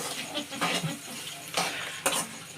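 Fried rice sizzles in a pan while a spoon or spatula stirs and scrapes it in several short bursts, close and fairly quiet, with no talking.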